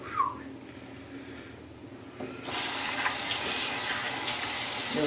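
Tap water running after shaving a head with a HeadBlade Classic razor, starting partway through as a steady close gush after a quieter stretch.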